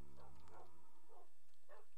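A Minecraft dog gives short, soft barks and yips in a few spaced bursts, faint and close with a quiet game hum beneath.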